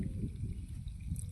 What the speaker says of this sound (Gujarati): બાગડા કરતો હાલો આવે છે મારું પાણી.